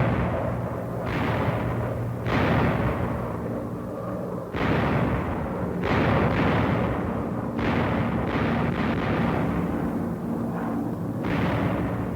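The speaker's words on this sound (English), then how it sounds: "ParaFrag, fragmentation bombs dropped by parachute, lest they explode too soon beneath the low-flying planes" Fragmentation bombs dropped by parachute burst in a rapid series of loud, rumbling blasts across a 1943 wartime battlefield, about ten explosions that overlap into a continuous heavy roar.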